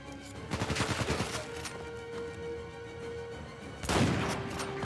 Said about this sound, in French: On tire dans le tas, on tire dans le tas